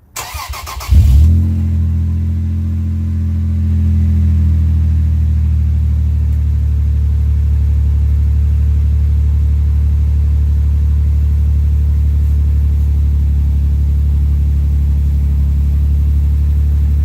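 Cold start of a Toyota Tacoma with a Magnaflow muffler and no tailpipe: a brief crank catches into a loud, deep, steady idle rumble that holds close and constant with no talk.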